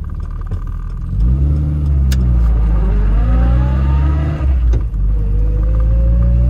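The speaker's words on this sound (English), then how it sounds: "here's a bit of a noisy ride with the roof up" A 1971 MG Midget with its roof up drives along, its engine rumbling loudly inside the cabin and revving through gear changes, with steady road noise and a couple of sharp clicks or knocks.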